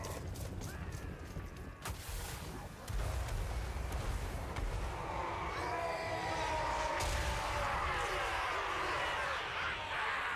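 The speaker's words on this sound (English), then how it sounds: "the mortars actually got a good shot off" Mortar explosions in Total War Warhammer 3 during a battle against orcs, heard as a dense, continuous wash of distant booms, clanks and battle noise that swells louder after a few seconds, with no talking.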